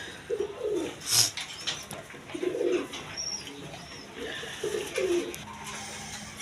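Soft pigeon coos come in several short bursts over a steady background hum, with a faint bird chirp early on.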